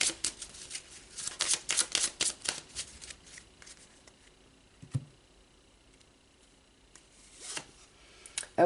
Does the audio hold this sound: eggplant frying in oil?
no